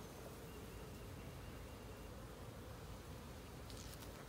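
Honey bees buzz steadily around an open hive during a spring inspection, a dense, even hum of many insects close by with no pauses.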